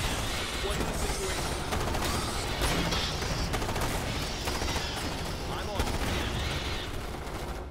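Dense, continuous gunfire from infantry units in the Starship Troopers: Terran Command strategy game, a steady loud clatter of many weapons firing at once throughout, with mechanical battle noise layered in.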